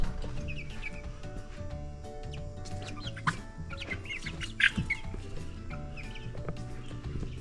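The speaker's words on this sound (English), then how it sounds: "Here's the chickens." Chickens cluck steadily in the background, with a couple of sharper squawks standing out briefly; a low mechanical hum runs underneath throughout.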